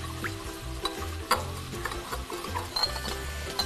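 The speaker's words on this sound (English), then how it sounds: "I'm gonna just mix that up so that my sugar dissolves" A pad thai sauce of lime juice, fish sauce and sugar stirred to dissolve the sugar, a steady scraping swirl over a faint sizzle from a nearby pan, close and continuous with a few sharp clinks.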